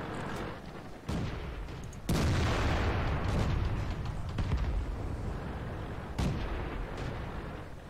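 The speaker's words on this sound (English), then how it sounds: "we got destroyed instantly by a shot from a Stug 3G that I couldn't even see" Tank cannon shots in the World of Tanks video game land as several heavy, booming blasts with crackling tails, spread across the stretch over continuous battle rumble, with no voices.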